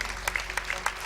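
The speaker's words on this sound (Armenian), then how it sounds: "եկեք ծափահարություններով գոտեպնդենք Գորգ Լումովին իր որոշում կայացնելու ճանապարհին" Audience applause at a televised X Factor talent show, a short spell of scattered, fairly soft clapping with a few sharper individual claps standing out.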